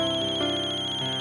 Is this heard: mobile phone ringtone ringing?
yes